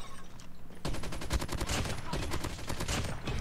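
Rapid automatic gunfire from a weapon in COD Mobile, a dense burst of shots beginning under a second in and rattling on steadily, loud and close, with no talk.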